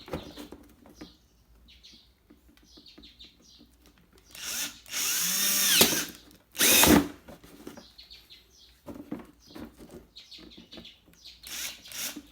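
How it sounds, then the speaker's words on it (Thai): A power drill boring holes through the thin, old plastic of a DIY 12V camping light box to mount parts, in two loud whirring bursts. Quiet handling sounds fall before and after. "เดี๋ยวเรา เจาะยึดอุปกรณ์ก่อนนะครับ"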